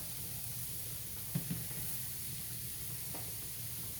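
Grease sizzles quietly in a frying pan on a stovetop while chicken for Alfredo cooks, a steady faint hiss broken by a few brief pops and splatters.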